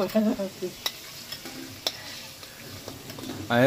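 Potatoes frying in a kadai over a wood fire make a quiet, steady sizzle, broken by scattered clicks and knocks of a utensil against the pan, with no voices.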